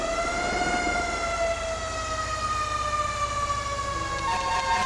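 A fire truck siren in GTA 5 wails continuously with a slowly falling pitch, loud and close, running alone for the whole stretch with a low engine rumble beneath it.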